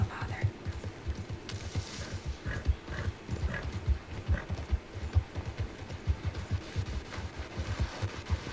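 Horse hooves clop steadily at a riding pace in the Red Dead Redemption 2 video game, a continuous rhythmic hoofbeat with faint mechanical clinks, with no talk.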